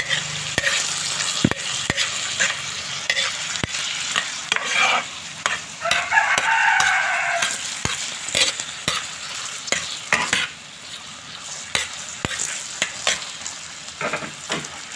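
Octopus frying and being stirred in a pan, a steady close sizzle broken by repeated sharp scraping stirs and clatters, with a louder hiss midway through.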